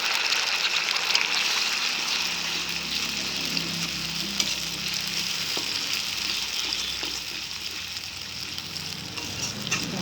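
Onion sizzling in hot oil in a pan with added tomato, ginger, garlic and green chili paste, a continuous crackling fry with occasional stirring clinks, close and steady with no talk.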